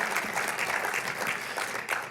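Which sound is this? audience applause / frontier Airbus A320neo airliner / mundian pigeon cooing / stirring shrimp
audience applause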